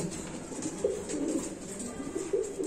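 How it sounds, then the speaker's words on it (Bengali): Lahori pigeons on a farm coo softly in short, throaty bursts, two or three low rolling calls close by over a steady background murmur. "আমরা আরেক জোড়া কবুতর দেখাচ্ছি আপনাদের"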